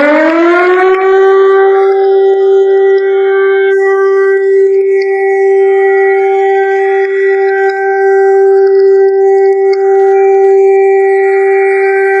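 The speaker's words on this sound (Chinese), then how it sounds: "这是防空解除警报。" A civil defense air raid all-clear siren rises quickly and then holds one loud, steady, unbroken wailing tone for the whole stretch, alone with nothing else in the background.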